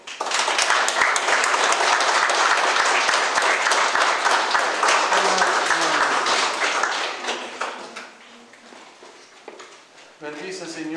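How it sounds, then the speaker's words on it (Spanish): A congregation applauds at the close of a Catholic Mass celebrating a quinceañera, with dense, loud clapping that tapers off after about seven seconds, and a voice comes in at the end. "Fuerte aplauso."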